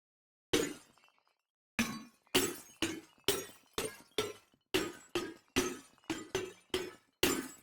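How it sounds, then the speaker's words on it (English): Glass smash sound effect from a sound library: a dozen or so sharp crashes of breaking glass, each followed by a brief tinkling tail, arriving one after another in quick irregular succession with short silent gaps between them. "Let's go for glass smash."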